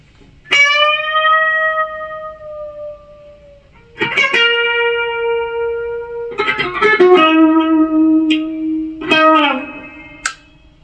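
Epiphone Les Paul Standard 60s electric guitar playing a lead tone with sustained, singing notes and bends in several phrases, close and fairly loud with light effects, no talking.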